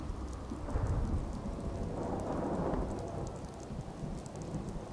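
Steady rain hisses with low thunder rumbling through it in the video game Fallout 4, a continuous, fairly soft storm bed with no talking.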